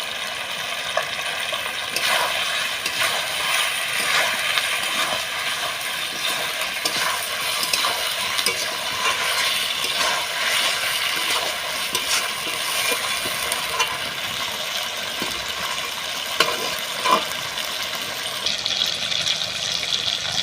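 Chicken fries in a pan with onion, ginger and garlic, giving a steady loud sizzle that runs unbroken throughout, with faint scrapes of stirring and no voices.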